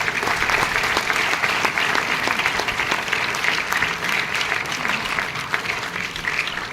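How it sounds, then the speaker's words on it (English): A crowd applauds at a talk by a retired army major general, steady dense clapping from many hands sustained evenly throughout, loud and close, with no voices over it. "Let's give him a round of applause."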